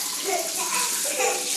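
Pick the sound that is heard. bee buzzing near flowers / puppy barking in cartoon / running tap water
running tap water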